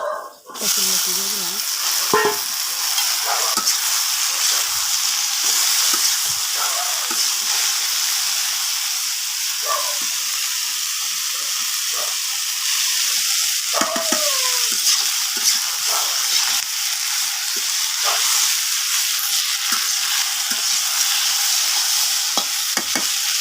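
Onions frying in a pan at home, a steady loud sizzle throughout with scattered stirring scrapes and a few brief voices in the background.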